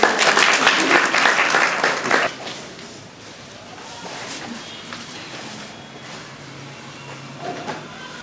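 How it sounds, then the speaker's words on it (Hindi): A burst of clapping from a group at a training session lasts about two seconds, then stops abruptly, leaving quiet room noise and faint voices. "ताली बजाओ उनके लिए"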